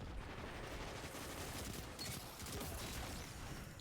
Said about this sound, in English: Have a fusion rifle out, get another fusion rifle kill.